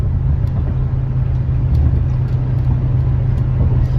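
A car drives and accelerates with a loud, steady low engine rumble and road noise heard from inside, unbroken for the whole stretch.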